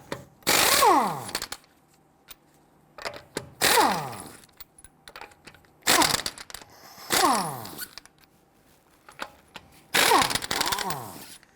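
Lug nuts come off a 2008-2013 Infiniti G37 front wheel under a 21mm socket on a power impact tool, in four loud whirring bursts spaced a few seconds apart, each ending in a falling whine and metallic clinks.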